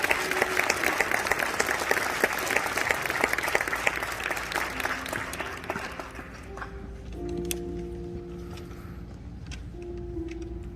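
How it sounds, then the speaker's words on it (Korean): Audience applause at a school graduation ceremony in a hall, a loud dense burst of clapping that thins and fades out over several seconds, leaving faint room tones and sparse claps. "박진양 아버님 나오실 때 박수로 격려해주세요"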